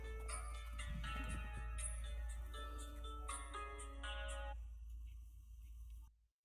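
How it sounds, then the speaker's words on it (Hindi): A phone ringtone plays a bright, repeating melodic pattern over a low steady hum for about six seconds before cutting off abruptly. "आपका फोन आ रहा है"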